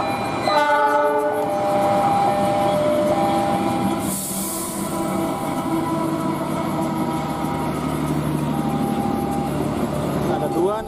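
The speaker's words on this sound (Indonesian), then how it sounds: "di sini ada kereta api" A toy train rolls along, sounding a series of electronic horn tones and chugging effects, steady and fairly loud, with a brief hiss partway through.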